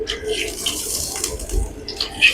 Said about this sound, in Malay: Lalu kita masukkan air.